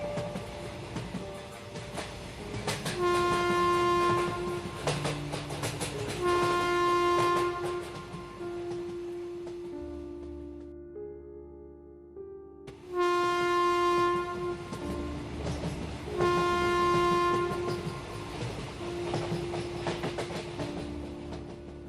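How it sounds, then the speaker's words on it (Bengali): A local train on the Shantipur line runs at night, its horn blaring in long sustained blasts over the steady rumble and clatter of the carriages. The horn stops briefly in the middle before sounding again. "রাত সাড়ে দশটার ট্রেনে শান্তিপুর লোকালে করে কলকাতা থেকে বাড়ি ফিরছি"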